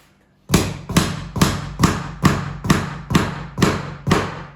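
Steady hammer blows on a skirting board, eight evenly spaced heavy thuds ringing out loud and close, with no talking.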